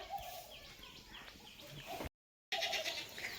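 A goat bleats in a short, wavering call, fairly close and clear, then goes quiet for a brief moment before more bleating resumes.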